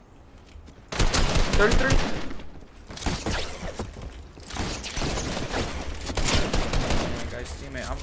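Fortnite gunfire sprays at an enemy in loud, sustained automatic bursts that start abruptly and then return in waves, with voices talking over the shooting.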